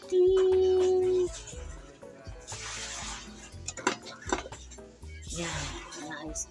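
A big pile of dishes, pots, pans and cutlery being washed, with repeated clinks and clatters of utensils and running water close by, mixed with talking.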